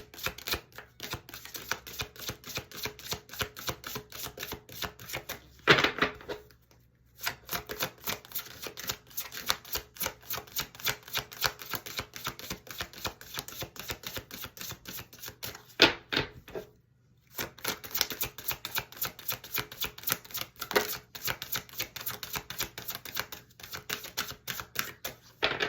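Tarot cards are shuffled close up in quick, crisp bursts of dense riffling clicks, broken by two short pauses. The sound is quiet and steady, with no talking.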